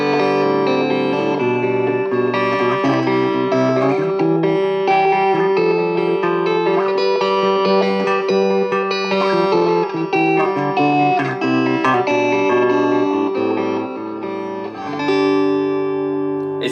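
Yamaha Revstar RSP20 electric guitar fitted with TV Jones Zoomtron pickups, played through overdrive: sustained, loud distorted chords and ringing notes carry on continuously, with no voices over them.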